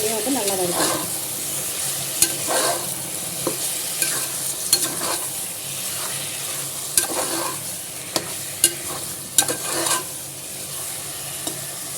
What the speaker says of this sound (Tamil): வெங்காயம் தக்காளி நல்லா வதங்கிடுச்சு இப்போ வந்து நம்ம கறியை சேர்த்து நல்லா வதக்கிக்கலாம் ஒரு அஞ்சு நிமிஷம்